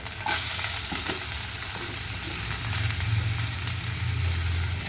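Onions sizzle loudly in a hot kadai while a utensil stirs and scrapes now and then; no voices.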